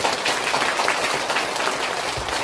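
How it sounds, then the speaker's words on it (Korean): A temple congregation claps during a monk's Buddha's Birthday dharma talk at Sambosa: a short burst of dense, steady applause from a seated crowd, fairly close and even in level. "알면 박수쳐줘"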